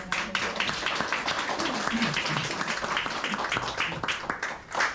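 Lecture audience clapping in a hall, a steady patter of many hands continuing for several seconds at moderate distance, with faint voices mixed in.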